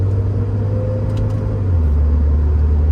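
A 1992 Porsche 968 Cabriolet with Tiptronic transmission drives along with a loud, steady low engine drone. Midway the pitch drops as it shifts gear, then it settles into a lower rumble with road noise and no talking.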